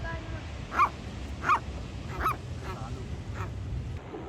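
Seagulls call by the Pacific Ocean along 17 Mile Drive in California, with three short honking cries spaced about a second apart over a low background rumble.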